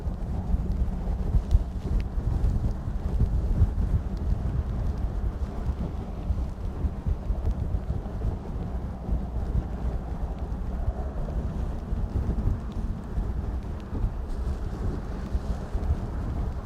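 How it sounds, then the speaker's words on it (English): Wind blows across Lake Guntersville, a continuous low rushing and buffeting against the microphone, fairly loud and steady throughout with gusty fluctuations and no talking. "That wind is blowing."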